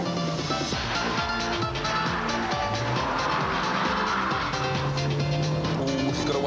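Citroen Saxo VTS and Renault Clio 172 hatchbacks race hard with engines roaring and brief tire squeals, a dense continuous mix of motor noise and skidding throughout, with occasional voices over it.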